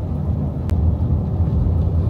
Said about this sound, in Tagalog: umuulan siya ngayon